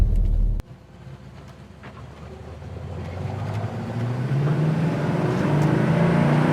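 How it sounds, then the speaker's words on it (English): A 1968 Chevrolet El Camino with its numbers-matching 327 V8 drives down a road, the engine close and continuous, its note climbing steadily as the car pulls away and accelerates, with no talking. "This one's a 1968 El Camino. Let's take it down the road and then check it out."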